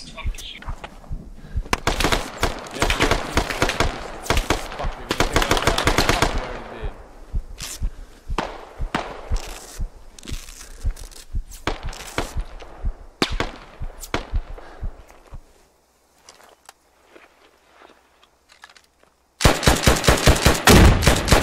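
Heavy gunfire in the video game Squad during an insurgent defense match: loud, rapid bursts of automatic fire and sharp single shots. The shooting thins out to a lull, then a dense burst erupts again, with voices talking over the action.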